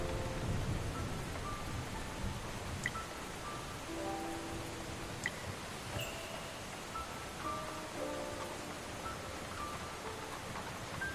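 Heavy rain in a video game story cutscene, a soft, steady wash of rainfall heard faintly throughout with a few scattered tonal game sounds over it.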